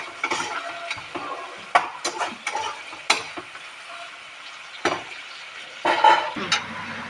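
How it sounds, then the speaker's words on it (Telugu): Onions frying in a pan for mutton curry, sizzling steadily while a utensil stirs and scrapes them in quick, uneven bursts, close and fairly loud with no talking. "ఈ ఆనియన్స్ మనకి బ్రౌనిష్గా రావాలి."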